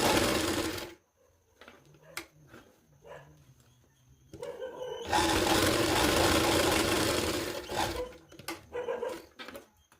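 A sewing machine stitches half-inch tucks into a small girl's blouse, with two loud bursts of rapid whirring stitching separated by quiet handling noises and a few brief thumps.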